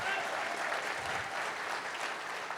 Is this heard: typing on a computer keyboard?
no